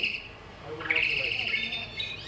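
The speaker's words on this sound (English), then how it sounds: "you should be able to hear some birdsong" Birdsong played back from a video at the opening of a birding fair: several bright, delicate chirps and warbling phrases, moderately loud, with faint room noise beneath.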